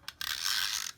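A snail tape runner rolls adhesive onto a card, making a short, close ratcheting whir that lasts under a second and ends with a few small clicks.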